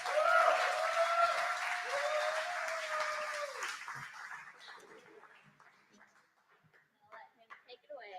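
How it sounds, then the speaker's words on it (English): Church congregation on Mother's Day gives a round of applause for a pastor, clapping that fades out over several seconds while a sustained tone lingers, followed by scattered voices and scuffles. "So Pastor Brian, let's give him a round of applause."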